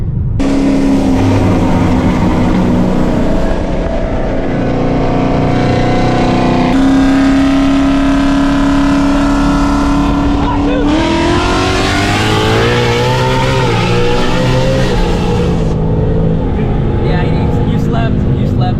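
A Whipple supercharged S650 Mustang GT with a 10-speed gearbox makes a hard acceleration run, loud engine and supercharger whine rising through repeated quick upshifts, with voices talking over the noise.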